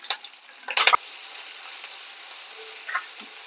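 Chopped onion sizzles in hot oil with mustard seeds, cashews and dried red chillies for semiya upma, a steady close frying hiss with a couple of brief stirring clatters near the start, no talk.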